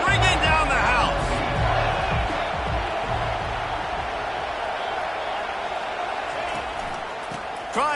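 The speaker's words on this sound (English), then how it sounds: "this crowd is bringing down the house" A stadium crowd at a college football game involving Ole Miss roars loudly on a third down, the cheering swelling at first and then holding steady beneath a play-by-play commentator's voice.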